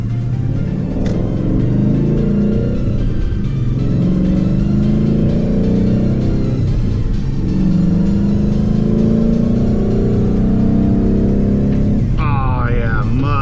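A Ford Mustang fitted with an SLP resonator and muffler-delete exhaust pulls hard from a standstill, its loud, deep engine rumble rising steadily over about twelve seconds before easing off, with a brief change in tone near the end.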